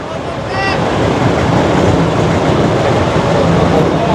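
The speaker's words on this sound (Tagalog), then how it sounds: "ito na yung LRT1 extension. Gumagana na pala." The LRT-1 light rail extension train rolls past nearby in Baclaran with a loud, steady rumble and rail noise. A brief high squeal sounds early on, and faint voices sit under the train.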